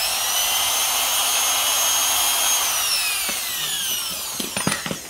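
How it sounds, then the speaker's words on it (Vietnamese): A 580W reversible electric drill runs with a loud, steady high whine whose pitch drifts downward as it slows, then a few knocks and clatters as it stops. "máy chạy hơi đá lưỡi tí xíu nè"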